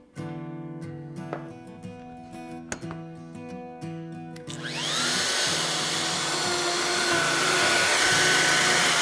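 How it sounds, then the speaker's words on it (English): Power drill boring holes through an MFT tabletop using a hole boring jig, first a few sharp clicks and knocks of positioning, then the drill spins up and whines loudly and steadily to the end. "So now we've bored as many holes as we can with the template in this position"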